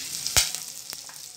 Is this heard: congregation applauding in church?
no